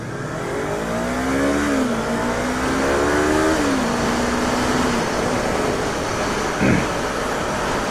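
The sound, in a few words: Honda CBR 600 motorcycle riding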